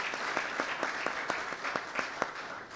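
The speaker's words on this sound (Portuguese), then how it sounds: "Vamos dar uma salva de palmas, agradecendo a participação de todos." A modest crowd at a legal seminar claps steadily, a dense patter of hands at moderate volume.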